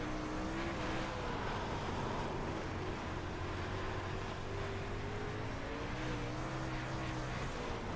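A Super Late Model race car engine drones steadily under throttle through the corners, its pitch rising and falling slightly as it accelerates, loud and continuous with no pauses.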